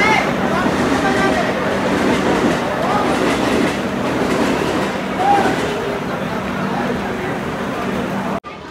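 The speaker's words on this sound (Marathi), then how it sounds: "आपली ट्रेन आता निघेल, CSTला जाईल ती." A train departing Thane station rumbles steadily close by with continuous rolling wheel noise and a faint squeal, people talking faintly underneath, ending abruptly.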